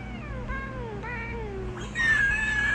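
A cat meows three times in short rising and falling calls, close and clear, then lets out a longer, thinner high-pitched cry.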